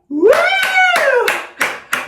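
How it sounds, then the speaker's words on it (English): An audience at a live show cheers for a candidate in a mock vote, one loud rising whoop carried over sharp hand claps that continue in scattered bursts afterward. "If you're voting for the mayor, give a big cheer!"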